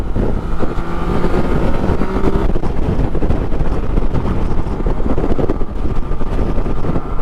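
Loud, constant wind roars and buffets the microphone on the Humber Bridge, a dense low rumble with no pauses, filling the whole stretch.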